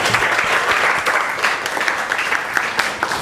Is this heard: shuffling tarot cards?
no